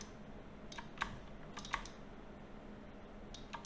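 Computer keyboard keys tapped to enter a value during 3D mushroom modeling work, a few quiet, close clicks spaced irregularly, heard alone.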